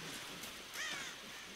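Bird calls beside a river in the video game Tomb Raider (2013): a single short, harsh caw-like call rises briefly over a steady hiss of outdoor ambience.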